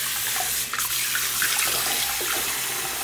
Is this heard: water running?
yes